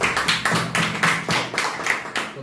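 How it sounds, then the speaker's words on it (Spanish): Rhythmic clapping welcoming a guest lecturer at an event, a steady beat of roughly eight evenly spaced, fairly close claps in unison from a small audience. "Fuerte el aplauso, por favor, lo recibimos."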